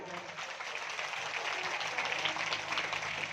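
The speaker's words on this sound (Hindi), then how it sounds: "चलो एक बार ना अपने लिए जोरदार ताली बजा लो" Audience applause at a Shrimad Bhagwat Mahapuran katha discourse in a Himachal temple, a steady dense wash of many hands clapping together, fairly close and sustained throughout with no break.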